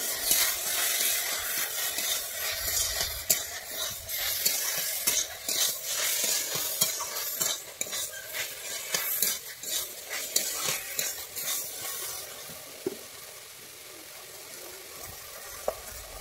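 Thankuni leaves with turmeric and mustard–green chilli paste being stirred in a pan: continuous scraping strokes over a low sizzle, close by, gradually quieter and sparser toward the end.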